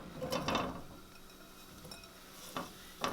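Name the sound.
tofu dumped into hot oil in a frying pan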